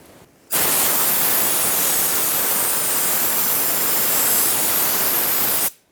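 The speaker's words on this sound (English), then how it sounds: "then take compressed air and blow it all out." Compressed air blasts onto a harmonic balancer bolt from a 2006–2011 Honda Civic, a loud, steady close hiss that starts abruptly, holds for about five seconds, then cuts off sharply.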